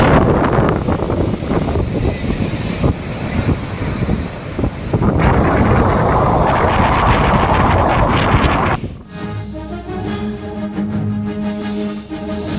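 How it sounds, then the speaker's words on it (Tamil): Rough sea and strong wind at Mamallapuram during Cyclone Ditwah, with roaring, buffeting gusts and crashing surf for most of the clip before it drops to a quieter, steadier wind. "டிட்வா புயல் எதிரொலியாக மாமல்லபுரத்தில் கடல் சீற்றம்."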